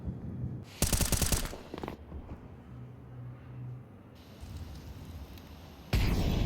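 Rifle fire in a Counter-Strike 2 professional match, with two dense bursts of rapid shots, one near the start and one at the very end, and quieter scattered game noise in between.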